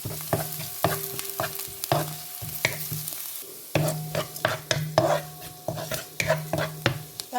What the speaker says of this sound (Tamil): கறிவேப்பில் போடுவேன் இது வந்து நல்லா வதங்கி வரணும் நல்லா பொன்னிறமாக வரணும்